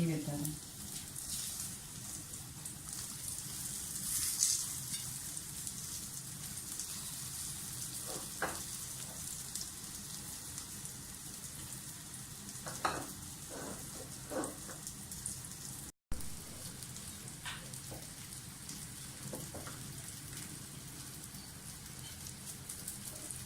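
Potato cutlets with an oats coating shallow fry in ghee, giving a soft, steady sizzle and crackle throughout, with a few brief pops and clicks and a sudden short dropout partway through.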